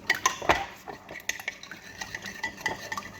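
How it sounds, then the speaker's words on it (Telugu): Bread ingredients are stirred and mixed in a bowl nearby, giving soft scraping and clinking as a utensil knocks against the sides in irregular strokes. "ఓకే, ఇప్పుడు దీన్ని మిక్స్ చేసుకుంటాం."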